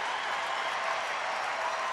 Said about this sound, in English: Sellout crowd trying to help Darren Oliver out here.